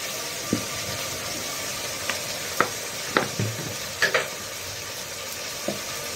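Ginger, garlic and chili paste frying in a pan with a soft, steady sizzle. A utensil scrapes and taps against the pan at intervals, giving a handful of sharp knocks.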